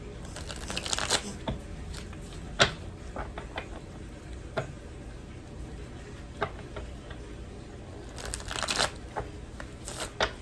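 A deck of tarot cards being shuffled: soft riffling bursts at the start and again near the end, with scattered light taps and card slaps between, close and quiet.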